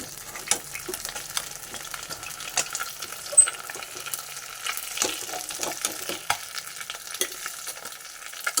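Small pool barb fish fry in hot oil, giving a steady soft sizzle broken by scraping and stirring clicks from a spatula, close up with no talking.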